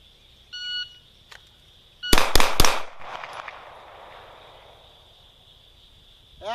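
Quick burst of three sharp pistol shots from a SIG Sauer P226, fired close together after a short electronic shot-timer beep, with a decaying ring afterward.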